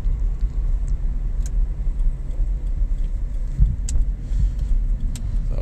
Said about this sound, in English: it's heavy traffic